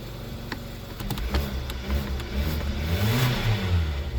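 A 2014 Kia Soul engine revs up and down several times, a close, rising and falling roar with no one speaking.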